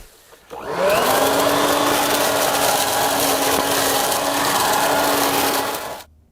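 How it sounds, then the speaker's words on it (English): A loud, steady leaf blower motor whine, run in reverse as a vacuum, starts up after a brief pause and runs continuously with a rushing, gritty roar of leaves being sucked in and shredded, then cuts off. "I have it reversed, so it sucks up the leaves"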